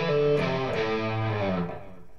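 Electric guitar solo lick from a song, played with hammer-ons and pull-offs: a sustained, slightly distorted run of notes ringing out for about two seconds, close and fairly loud with no voice over it.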